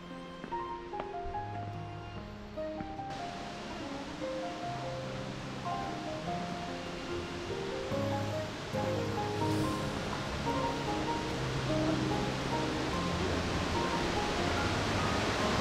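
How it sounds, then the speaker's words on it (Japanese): Nachi Falls, a tall waterfall on the Kumano Kodo, gives a continuous broadband rush of falling water heard from nearby, steady and unbroken, with a faint musical tone at the start. "那智の滝に到着しました。"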